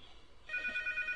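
A telephone in the Rec Room video game rings with a steady electronic trilling tone that starts partway through, moderately loud and alone, over faint background hum.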